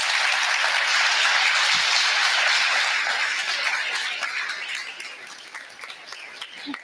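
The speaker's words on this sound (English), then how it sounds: "give Mark Harbert a round of applause" A conference audience at a live marketing mastermind event bursts into loud, dense clapping that holds steady, then gradually thins and fades toward the end.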